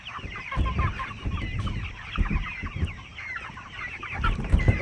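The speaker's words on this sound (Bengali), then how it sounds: "কতগুলো মুরগি আছে দেখি তো" Several chickens cluck and mutter steadily at close range on a poultry farm, a continuous busy flock sound with occasional louder calls and no speech.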